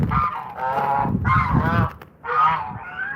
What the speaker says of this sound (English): So those are my geese.